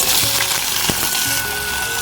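Chopped onion hits hot oil with cumin seeds and dried red chillies in a wok, giving a steady, close, bright sizzle for about two seconds with a few small pops and no talking.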